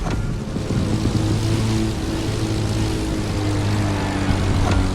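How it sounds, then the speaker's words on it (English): RB20 aerobatic propeller plane in The Crew Motorfest, a continuous loud droning engine and propeller roar that holds steady throughout, close and alone. "the plane will have to make very tight turns if it wants to keep up with the AGP"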